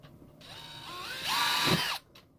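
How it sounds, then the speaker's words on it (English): A power drill whirs up, its pitch rising as it bites into an ice fishing rod case for banana jack holes, then cuts off abruptly after about two seconds, close by. "let's just go ahead and drill 2 little holes for the banana"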